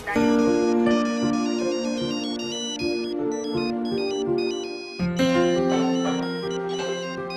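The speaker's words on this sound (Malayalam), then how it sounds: "എടാ അൻവർ, നിനക്കാ ഫോൺ? നാട്ടിൽ നിന്നാന്ന് തോന്നുന്നു." A telephone ringtone plays loudly and continuously, a bright repeating electronic melody with a brief break and restart partway through, heard alone without speech.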